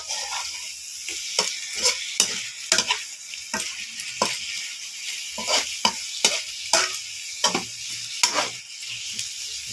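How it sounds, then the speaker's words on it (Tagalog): Butter garlic prawns frying in a pan, a steady bright sizzle broken by repeated scraping and clinking strokes of a utensil stirring the pan, close up. "Ang ating niluluto ngayon, butter garlic prawns."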